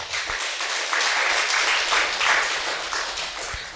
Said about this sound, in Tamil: கைத்தட்டும்